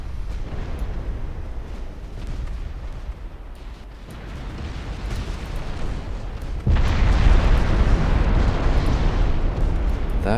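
Torpedo explosions striking ships in Ultimate Admiral Dreadnoughts make a continuous rolling roar of deep booms, swelling louder and denser partway through and staying heavy to the end.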